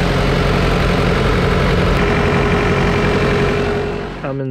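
A Cummins B3.3 diesel engine on a Vermeer BC1000XL brush chipper runs at a steady, loud idle with a constant low drone, then drops off abruptly near the end.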